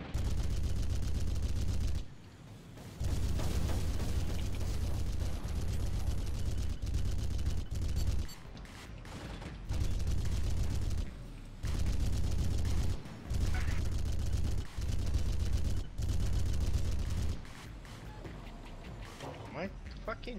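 A turret in a video game fires sustained loud bursts of rapid gunfire, broken by short gaps, with a voice speaking over the noise.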